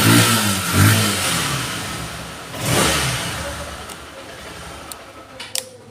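A nearly new motorbike with about 5,000 km on it revs close by. Its engine swells in a few throttle blips and then settles toward idle, with a couple of small clicks near the end and no talking.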